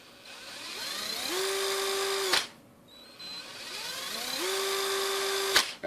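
A Kimo 20V cordless drill, run twice on its variable speed trigger, ramps up to a steady high whine, holds it, then stops abruptly with a sharp click of the brake. Each run lasts about a second. The drill is close and loud, with no talk.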